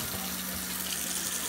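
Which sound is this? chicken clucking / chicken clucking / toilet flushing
toilet flushing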